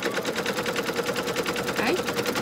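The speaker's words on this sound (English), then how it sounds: "This is going to stitch out the design of the outline of it." An embroidery machine stitches out the outline of a honeybee coaster on base fabric with a rapid, steady mechanical rattle, close and continuous throughout.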